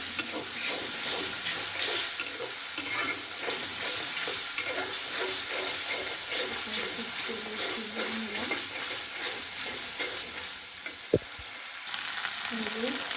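Turmeric and chili sizzle in hot oil, a dense continuous frying hiss with soft stirring scrapes, close by, and faint background voices underneath.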